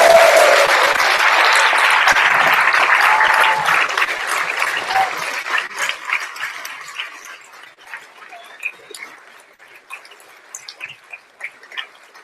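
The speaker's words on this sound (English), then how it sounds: "just a big applause for him" Audience at a general assembly session applauding, a dense, loud roar of clapping that thins out over several seconds into scattered individual claps, no speech.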